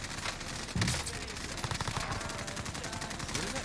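A light machine gun fires rapid bursts in the video game Warzone, a dense rattle of shots continuing through most of the moment, with a player speaking over the gunfire.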